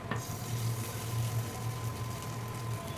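Ginger sizzles steadily in a little hot oil as the base for chicken noodles, a close, even frying hiss with faint stirring and no talking.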